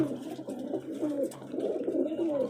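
A breeding pair of pigeons with newly hatched chicks coo softly and repeatedly close by, overlapping low throaty calls with no talking.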